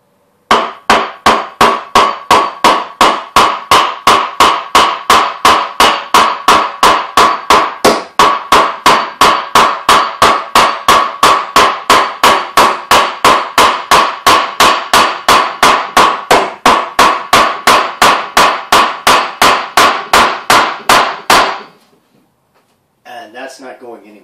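Steady hammer blows drive a nail into a wooden Viking round shield built from modern materials, roughly two strikes per second for over twenty seconds, loud and close, then stopping with a few faint knocks after.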